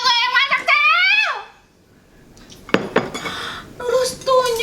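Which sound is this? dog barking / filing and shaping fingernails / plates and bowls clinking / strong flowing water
plates and bowls clinking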